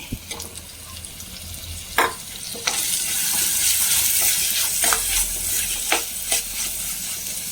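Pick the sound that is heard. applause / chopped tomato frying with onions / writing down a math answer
chopped tomato frying with onions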